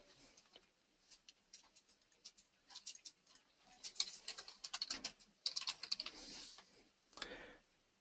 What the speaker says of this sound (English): I can then type up my email and send it on.